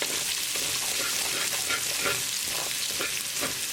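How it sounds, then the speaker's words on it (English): Garlic and ginger stir-fry over high heat in a pan for a chicken-thigh stir fry, a dense continuous sizzle close up with faint rhythmic scrapes of stirring and no voices. "Now bring your gas on high, add garlic, ginger, mix it well. Cook them like 10 seconds."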